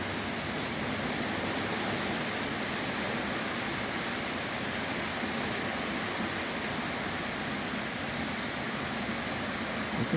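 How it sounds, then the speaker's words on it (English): Heavy rain pouring down during a storm with the power out, a dense, steady roar of falling water that stays loud and unbroken throughout. "Just some crazy ass rain."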